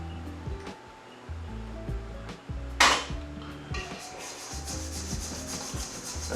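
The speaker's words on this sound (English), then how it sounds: "what I normally do is just throw a few in the mixing bowl" Raw chicken wings are tossed into a mixing bowl of breading, giving soft scraping and rubbing with small thuds and one sharper knock against the bowl, close and quiet.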